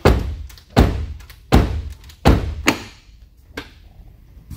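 Car door on a Renault Modus being handled while held open during hinge replacement: a series of five or six sharp metallic thunks and knocks at irregular intervals, loud and close, fading to lighter taps.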